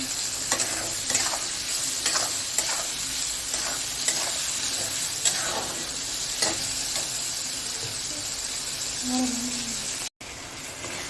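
Tomatoes fry with masala in a pan, sizzling steadily while a utensil stirs and scrapes in repeated strokes, close and clear, cut short by a brief dropout near the end.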